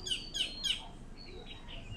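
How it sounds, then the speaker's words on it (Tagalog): Birds in a tree after rain give three quick bright chirps in a row, then a few thinner, fainter calls over quiet background hiss. "Yan ang mga ibon, no? Muhuni na, oh."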